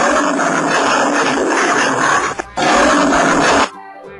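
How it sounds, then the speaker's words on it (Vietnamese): A tiger roars loudly and close, one sustained, rough blast lasting over three seconds, broken by a brief gap, before it cuts off and falls quiet. "Con hổ."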